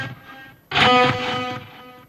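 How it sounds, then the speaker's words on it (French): A distorted electric guitar chord rings out after a quiet passage, its saturated delay repeats gritty and echoing, trailing off at a steady level. "tu avais de la saturation sur les delays. Tu as vu là? Mes répétitions sont saturées."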